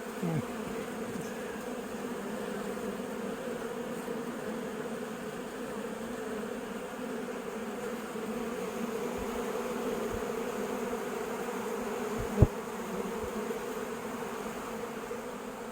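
Honeybees swarming around their hives in a robbing frenzy: a steady, dense buzzing drone that fills the whole stretch without pause, near and loud, with a brief thump partway through.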